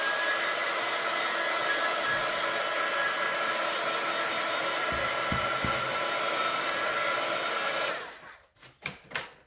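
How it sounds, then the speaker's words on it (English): A hair dryer blows steadily and loudly over wet paint on an art journal page, a constant rushing whoosh that cuts off near the end, leaving a few soft knocks and handling sounds. "I'm going to dry that because it's got wet paint"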